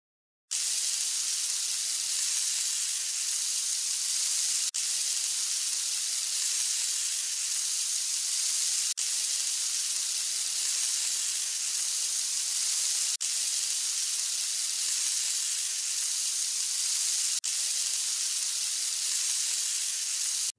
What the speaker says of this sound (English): We need to melt some butter in the pan so the pancakes won't stick.